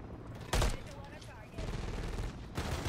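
Gunfire from an MCW rifle in the video game Modern Warfare 3, a loud burst of shots followed by sustained rapid firing and later another burst, with a voice talking over parts of it.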